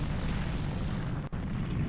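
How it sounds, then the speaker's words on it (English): A deep, rumbling explosion roars steadily as a tower is destroyed in Ocarina of Time, a dense low boom with a brief dropout partway through. "you actually like legitimately get to see the tower being destroyed"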